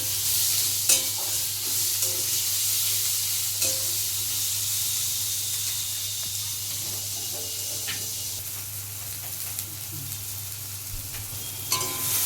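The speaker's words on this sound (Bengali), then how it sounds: "টমেটো কুচিগুলো দিয়ে দিচ্ছি। এবার ভালো করে একটু মশলাটা কষিয়ে নিচ্ছি।" Masala with chopped tomato sautéing in a pan for a Bengali bhola fish curry, a steady close sizzle and soft hiss running throughout, with occasional clinks and scrapes of stirring and no talking.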